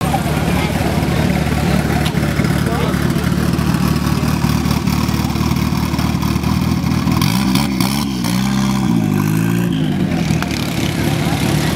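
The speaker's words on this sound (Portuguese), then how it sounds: "Kombi, parece toda desenhada, indo embora." A Volkswagen Kombi van pulls away at a car show outside a shopping mall, its engine revving and rising in pitch over steady crowd and traffic noise.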